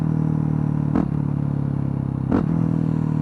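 Steady motorcycle engine note held on the throttle, with two brief throttle blips about a second and a half apart as the rider makes clutchless shifts; close and loud, no talking.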